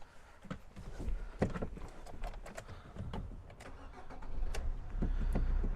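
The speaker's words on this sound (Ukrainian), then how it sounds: "Зараз заведемо наш Фіоріно." Near the end, a 2017 Fiat Fiorino van's engine cranks and then catches into a steady idle, after a few clicks and handling noises.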